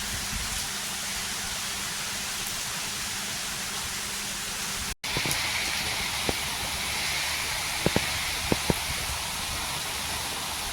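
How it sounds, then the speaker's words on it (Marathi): Heavy rain pours steadily over a village, a dense, even wash of noise that holds for the whole stretch with a brief break midway and a few faint knocks later on. "तर इकडं किती तर दिवसांनी पाऊस पडायला आहे"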